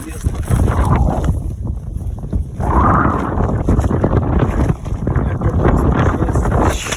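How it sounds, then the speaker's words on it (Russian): Strong desert wind buffets the microphone in loud, continuous gusts with rumbling surges and brief lulls, close and overwhelming, on a hard road trip toward Riyadh with sand blowing everywhere. "Жесткий ветер сегодня меня просто вообще выгоняет отсюда с этого места."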